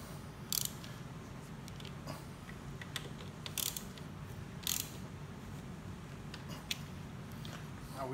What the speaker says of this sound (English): You're going to torque the forward two first. Then you're going to do the rear two.